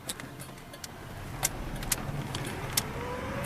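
Cabin sound from a 1993 Ford Ranger XLT Supercab 2WD pickup on the move: a low engine hum and road noise, with a few clicks and clunks from the gear shift.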